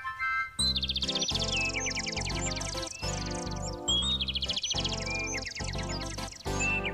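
Small birds chirp and trill in rapid, bright bursts over a steady musical backing, close and loud throughout with a brief dip just before the two main phrases.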